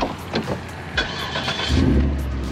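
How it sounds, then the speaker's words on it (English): An Audi S5 engine fires up with a short crank and a rising burst of revs, preceded by car interior noises and door clunks, no one speaking. "Oh, now that's an engine."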